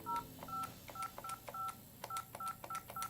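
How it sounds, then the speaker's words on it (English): A Cisco 508 desk phone sounds a quick series of DTMF keypad tones as a number is dialed, about ten short, evenly spaced beeps at close range over faint background noise, with no voices. "You can hit call forward, enter your cell phone number,"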